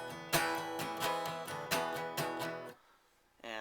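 Guitar strums a few bridge chords of a song, open A among them, each struck chord ringing close and clear before a brief gap and a fresh strum at the end.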